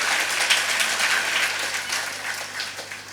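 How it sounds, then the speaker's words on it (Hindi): Audience applause at a Jain temple gathering in Delhi, a dense, steady patter of many hands clapping that fades slightly toward the end. "ताली बजाओ ना"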